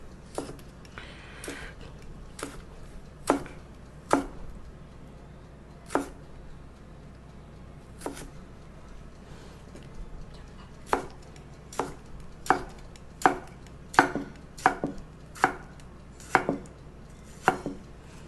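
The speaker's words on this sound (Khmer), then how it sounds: "ដំបូងយើងចិតប៉េងប៉ោះរបស់យើង ចិតក្បាលវាចេញ" A knife chops fresh tomatoes on a cutting board in a series of sharp, irregular taps, about twenty strikes, some spaced apart and others coming in quicker bursts. The taps are fairly quiet and close against a faint low hum.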